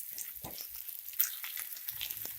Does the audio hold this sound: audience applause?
no